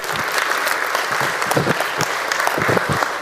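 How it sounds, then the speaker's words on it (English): A church audience applauds a couple during a Christmas-season service, with strong, continuous clapping and a few louder individual claps popping out of the crowd. "Hey, give them applause"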